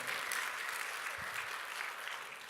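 A church congregation applauds during a Korean sermon, a steady dense wash of clapping that stays fairly even and moderately loud for the whole stretch.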